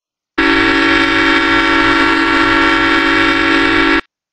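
A vehicle horn looped for a Gmod addon blares as one long, loud, steady tone with strong harmonics, starting abruptly and cutting off cleanly after about three and a half seconds.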